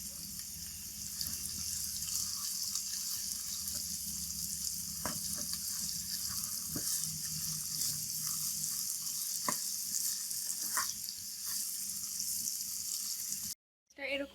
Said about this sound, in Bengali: আমি পেঁয়াজ মরিচ ভেজে নিব